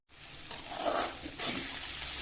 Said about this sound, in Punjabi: ਲਓ ਜੀ ਪਿਆਜ਼ ਆਪਣੇ ਭੁੱਜ ਗਏ